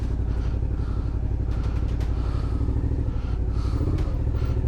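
Motorcycle engine running loud and close as the rider releases the clutch on a high-country ride, a continuous rough, throbbing drone with steady mechanical clatter throughout.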